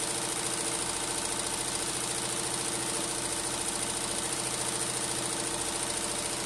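Embroidery machine on a large aluminium frame with a pantograph, stitching a fill at 850 stitches per minute: a steady, loud, rapid mechanical hum and chatter that holds unbroken throughout, with no talking.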